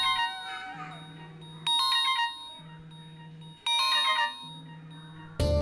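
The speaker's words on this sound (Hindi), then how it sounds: "अरे ये तो बुबुल का फोन है" A mobile phone rings with a repeating melodic ringtone, bursts of bright tones alternating with a low sustained note in a steady cycle, fairly loud and alone before a sudden thump at the end.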